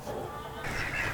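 Ducks honk and call in a backyard duck coop fitted with a funnel, a continuous fowl chatter that grows louder and busier partway through, close and without talk.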